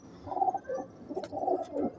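Soft, low pigeon cooing repeated in a gentle rolling rhythm, close by but quiet, with a faint higher chirp in the background.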